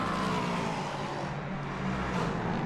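A prototype race car streaks down the start-finish straight at the Nürburgring toward turn 1, its engine a loud, continuous high-revving roar through the whole brief moment.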